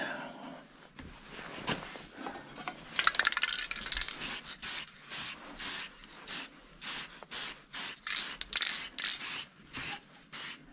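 Black aerosol paint is sprayed on repair parts for a David Brown 996 tractor seat. Short hissing bursts repeat in a steady on-off rhythm, loud and close, after a rougher stretch of spraying.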